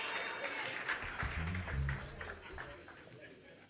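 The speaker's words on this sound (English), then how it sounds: "Give him a round of applause." A conference audience applauds at the launch of Baroka FC's new headline sponsor. The clapping is fairly faint and brief and swells for a moment before it fades.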